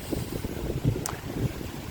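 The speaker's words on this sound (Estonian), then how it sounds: "Meil on natukene veits tuuline" Wind blows hard at the Paljassaare coast, rumbling loudly and buffeting the microphone in a continuous gusting roar.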